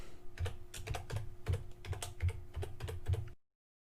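Fingers tap out a password on a computer keyboard in a quick, close burst of about a dozen keystrokes, evenly paced with brief pauses, then stop abruptly into silence.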